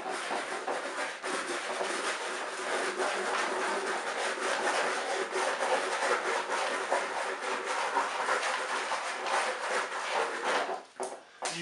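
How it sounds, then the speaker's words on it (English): Wax is rubbed onto a surfboard in circular motions, producing a continuous close scraping and rubbing sound with a slight rhythmic pulse, steady throughout and ending with a brief pause. "We apply wax in circular motions."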